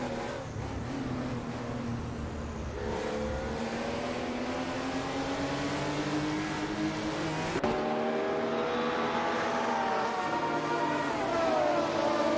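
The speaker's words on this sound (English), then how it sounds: "Elron McBourne 76 is driving a Porsche and currently in 33rd place" Racing car engines in an AI-driven racing video game with Group 6 cars including a Porsche and an Alfa Romeo, steady high revving drone with rising and falling pitch sweeps as cars pass, continuous and fairly loud.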